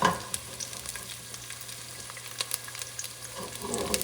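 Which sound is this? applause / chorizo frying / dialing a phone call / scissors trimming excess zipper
chorizo frying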